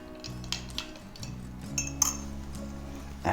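A spoon clinks against the side of a glass as a Bloody Mary cocktail is stirred, giving a few close, bright taps and chimes over a quiet background.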